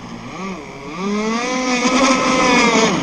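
A Zenoah 30cc two-stroke engine revs up on the throttle, its buzzing drone climbing and holding loud and close for a few seconds with no talking.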